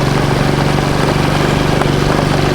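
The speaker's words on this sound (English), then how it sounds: "rumbling through the jungle with a motorcycle" A loud, steady motorcycle engine drones close by in the jungle near Cagayan de Oro, Philippines, its rapid pulsing rumble holding constant without breaks or voices.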